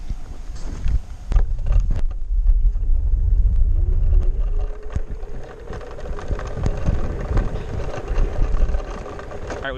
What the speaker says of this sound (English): we've been riding around these scooters for a while